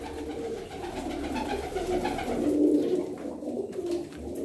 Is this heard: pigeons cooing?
yes